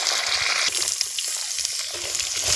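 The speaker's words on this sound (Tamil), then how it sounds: "கடலைப்பருப்பு போட்டாச்சுங்க. நல்லா பொரியட்டும்." Chana dal frying in hot oil with mustard seeds for mango pachadi, a steady close sizzle and crackle that runs without pause and with no voices.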